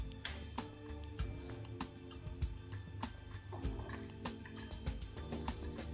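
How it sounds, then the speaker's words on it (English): Water trickles and drips into a container as it is filled for a small pump setup, a close run of splashy drops and gurgles, fairly quiet, with a low steady hum under it. "Fill some sufficient water."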